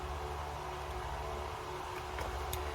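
An electric fan runs in a hot Florida room, a steady low hum and broadband whoosh that stays constant and faint throughout, with a few light ticks near the end.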